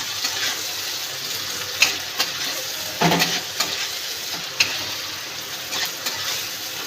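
Tomato and green chilli sizzling in a hot pan, a constant close crackle broken by several sharp stirring scrapes and spoon knocks, with no voices.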